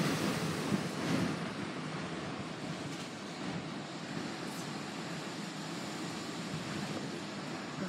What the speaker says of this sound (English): there's the wind going up again